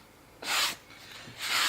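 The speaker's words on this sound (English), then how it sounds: "I'm going to use, as stated, straight motions, like this. And I'm going to rub it for a while." A Gyeon leather cleaner is rubbed with straight strokes into a carbon racing seat in a Mazda RX-7 FD, giving two close, soft scrubbing swishes with a quieter pass between them.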